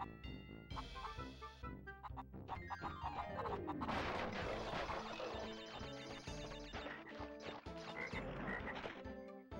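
A frog croaks loudly in a video game, a dense run of rapid, rattling croaks mixed with harsh game effects and crashes that fill the whole stretch, with no talking.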